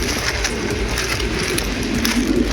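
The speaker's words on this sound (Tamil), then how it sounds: "உதகையில் பலத்த காற்றுடன் கனமழை பெய்தது." Heavy rain driven by strong wind in Ooty hisses as a dense, constant wash of noise, loud and even throughout, with low gusty rumble beneath.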